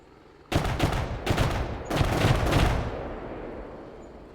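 Bursts of heavy gunfire during a military radio training exercise, several loud close volleys in quick succession over a few seconds, then a fading echoing tail.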